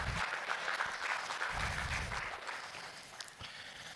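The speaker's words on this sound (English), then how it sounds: "maybe a round of applause for all the Lakeland team that helped you as well this year" An audience at a student-managed crop farm presentation gives a round of applause, a crackling burst of clapping that swells in uneven waves and thins out over a few seconds.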